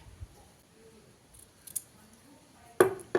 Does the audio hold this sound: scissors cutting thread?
yes